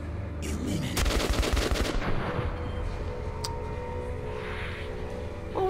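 Gunfire in the video game Metro 2033 Redux, a rapid burst of shots over a dense, rumbling game soundscape, loud and continuous.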